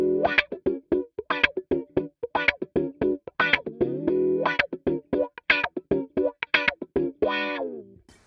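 An electric guitar runs through a wah pedal in an Archetype Cory Wong plugin, playing choppy funk stabs as the filter sweeps fully open and closed, distorted and up close, with no talking.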